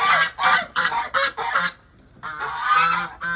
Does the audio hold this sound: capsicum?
no